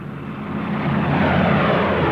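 Loud, steady drone of propeller warplanes in a World War II ground attack over Europe, swelling slightly as they come closer, with no voices.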